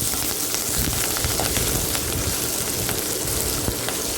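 Shallots and green chillies fry in oil for sambar, giving a steady dense sizzle with scattered pops and crackles that runs evenly and close throughout, with no talking.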